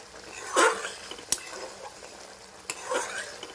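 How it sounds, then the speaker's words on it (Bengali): A spoon stirs eggplant curry (begun bahar) in a frying pan, giving a few soft scraping and sloshing strokes against the pan over a faint sizzle, with one sharp metallic tap in between. "হালকা হাতে নাড়াতে হবে"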